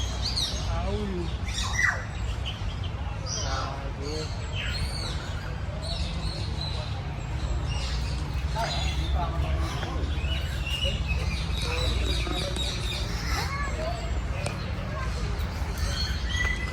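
Many birds call and squawk together in a dense, continuous chorus at the Ninoy Aquino Parks and Wildlife Center in the Philippines, chirps and cries overlapping throughout with a steady background hum and occasional voices.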